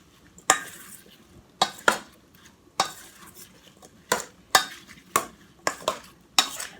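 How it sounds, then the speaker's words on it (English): Sliced peaches and apples being tossed with vanilla and cinnamon in a bowl, heard as a series of sharp utensil scrapes and clinks against the dish at uneven intervals, close up, with quiet gaps between strokes and nobody speaking. "And then we will toss this all together. Mix it thoroughly."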